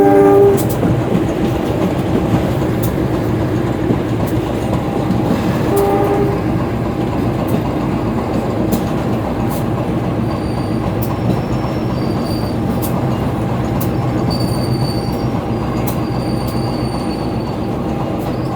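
An Indonesian Penataran passenger train bound for Surabaya Kota rolls steadily into a station, wheels rumbling and clicking continuously, with occasional brief squeals and a short horn-like tone, no talking.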